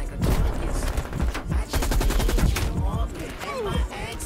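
Rapid gunfire from Call of Duty Cold War multiplayer, fast bursts of automatic shots crackling in quick succession at moderate loudness, with game effects around them.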